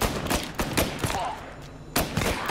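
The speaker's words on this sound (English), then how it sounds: "Reports of gunshots rolling in." Gunfire bursts in the video game Mafia: Definitive Edition, several loud, sharp volleys crackling in quick succession with short gaps between them, then a final cluster at the end.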